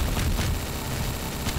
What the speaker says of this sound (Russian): Все взрываем